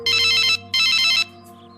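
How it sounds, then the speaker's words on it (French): A mobile phone ringtone sounds twice, two bright electronic melodic bursts of about half a second each with a short gap, clear and close over a quiet room hum. "ton téléphone sonne"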